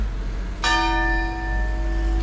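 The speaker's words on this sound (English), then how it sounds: "And the bells are ringing. It's going to chime for us now." A single church bell in Bradford on Avon strikes loudly and its clear tone rings on and slowly fades, heard alone against a steady background hum on a freezing day.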